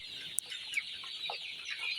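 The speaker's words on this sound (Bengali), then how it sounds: "আমি আজকে তোমাদেরকে আবারও নিয়ে এলাম স্বপ্ন মিক্স প্রজেক্টের সোনালি মুরগির খামারে" Sonali chickens on a poultry farm cluck softly, with a few short sharp calls and low murmuring rising and falling close by, and no talk.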